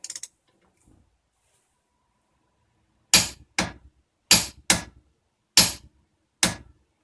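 Hand ratchet tightening a 19 mm nut on a 1998 Jaguar XJR during front brake and wheel bearing work: six sharp, close metallic clacks in pairs with short pauses, alone in a quiet garage.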